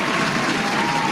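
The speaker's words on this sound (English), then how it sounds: "Let's give them a round of applause" Audience applause at a Cleveland Browns and Green Bay Packers football event, a dense, steady wash of clapping held at an even level throughout the brief moment, with no voices standing out.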